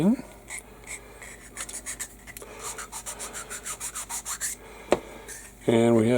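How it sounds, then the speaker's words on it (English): Rhythmic short rubbing strokes of sanding on a small hard plastic part of a 1/48 scale SU-34 model kit, at the sprue gates, repeated steadily at close range, ending with a brief voice. "Do a little sanding."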